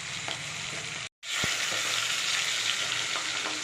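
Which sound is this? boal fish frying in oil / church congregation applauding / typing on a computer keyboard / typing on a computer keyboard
boal fish frying in oil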